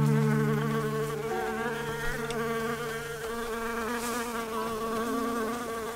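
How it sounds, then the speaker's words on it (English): A bee in the Snufkin: Melody of Moominvalley video game buzzes loud and close, a continuous droning hum with shifting pitch that lasts the whole stretch without pause. "It's very loud, the bee."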